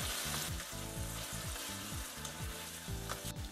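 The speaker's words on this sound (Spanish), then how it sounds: "A continuación, rehogamos la cebolla en un fondo de mantequilla y aceite." Chopped onion sautés in a pan with butter and oil, a steady close sizzle and crackle broken by repeated rhythmic scraping as it is stirred, with no voices.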